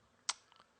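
A computer mouse gives a single sharp click, followed by a couple of faint softer ticks, close and quiet against a near-silent room.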